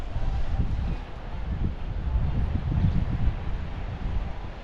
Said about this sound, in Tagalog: Habagat, hangin.